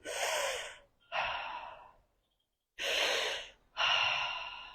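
Four deep, forceful breaths during a head tension release exercise, close and loud, each a long rush of air, with a clear silent pause between the second and third.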